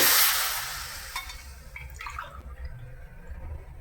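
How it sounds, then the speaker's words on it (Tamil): Water poured from a tumbler into a pot while measuring two and a half tumblers for a sweet rice-flour and jaggery adai, a brief splashing burst at first, then fading to quieter trickles and drips close by. "இதே டம்ளரில் இப்போ வந்து ரெண்டரை டம்ளர் ஜலம் எடுத்துக்க போகிறேன்"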